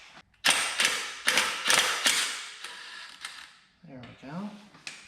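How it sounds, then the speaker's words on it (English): A wrench loosening the brake caliper slide bolt on a GMT800 pickup gives off a run of short ratcheting clicks in bursts, fairly close, before a slower creak near the end. "I need a wrench."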